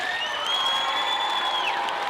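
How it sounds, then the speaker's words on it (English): A school assembly audience applauds and cheers in a gym, a steady wash of clapping under a sustained high whistle or whoop that slides down at the end. "you need to start by giving yourselves a big round of applause"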